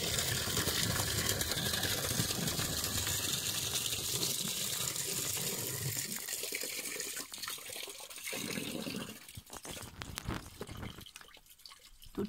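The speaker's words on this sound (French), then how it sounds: "Tire la chasse." A toilet flush drains into a crawl space as a steady, faint gush of water that slowly thins into trickling and drips toward the end.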